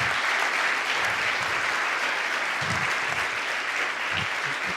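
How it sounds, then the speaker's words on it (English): Conference audience applauds in a dense, steady wash of clapping from many hands, even and sustained throughout, with a few closer claps standing out. "Big applause, please."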